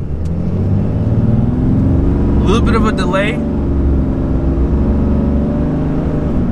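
A 2021 RAM 2500 Limited Longhorn pickup, with an engine rated at 850 pound-feet of torque, drones steadily from inside the cab as it accelerates from low speed, while someone talks briefly over the engine.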